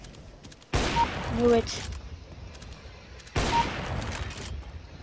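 Two loud bursts of gunfire in the video game CS:GO, each a sharp onset followed by about two seconds of sustained shooting, with brief speech between them.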